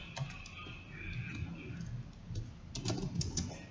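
Faint clicking of fingers typing code on a computer keyboard, scattered quick keystrokes in short bursts close by, with a soft low background murmur.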